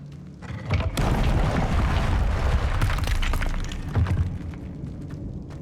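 A Confringo blasting spell explodes in the video game Hogwarts Legacy: a sharp blast starts a long roaring, crackling rumble, and a second burst follows a few seconds later before the sound fades.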